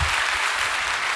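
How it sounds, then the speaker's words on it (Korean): A church congregation at an Easter Sunday service claps for the instrumental accompanist team, loud dense applause sustained evenly throughout the short burst. "박수 한 번 더 치르시기 바랍니다."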